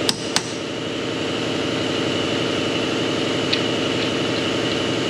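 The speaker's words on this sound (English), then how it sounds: "The compressor's still going." An air compressor runs in a workshop, a steady mechanical drone, with a couple of sharp metallic knocks at the start and light clinks later.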